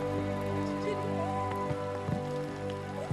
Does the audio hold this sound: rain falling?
yes